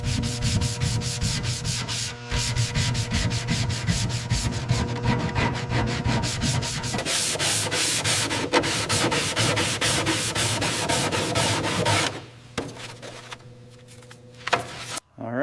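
Steady, close rubbing and sanding strokes on freshly painted bright green cab panels of a model train, a dense continuous scrape that stops abruptly near the end, leaving a few quieter rubs.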